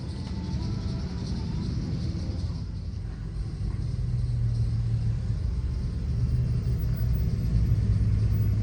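Big truck engine rumbling loudly nearby, a deep steady drone that swells a little louder partway through, with no talk over it.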